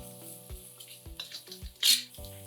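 A spiced dum ka murg mixture with pepper and chopped coriander sizzles softly in a pan over a flame, with light stirring and utensil clinks and one brief louder hiss near the end.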